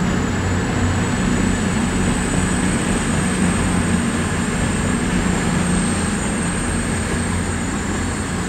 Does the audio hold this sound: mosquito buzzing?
no